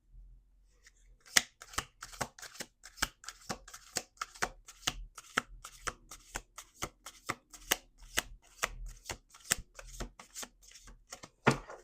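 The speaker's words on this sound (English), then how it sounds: "Last shuffle." A deck of tarot cards shuffled by hand up close, producing steady repeated sharp slaps and riffles at a brisk, roughly even pace, soft overall.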